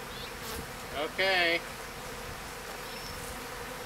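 A honey bee buzzes loudly close by for a moment, over a constant faint hum of many bees around a hive; someone says a word.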